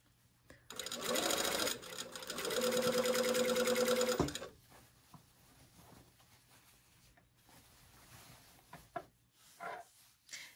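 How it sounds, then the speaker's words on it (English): A home sewing machine stitches a garment seam at a 5/8 seam allowance, a close, fast rhythmic whirring and clatter that runs for a few seconds, then stops, leaving quiet handling noises. "So now I'm just going to sew this at 5/8 of the seam allowance."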